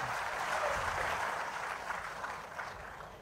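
An audience at a Telugu public gathering claps in a steady, dense round of applause that fades slightly toward the end, heard at moderate distance.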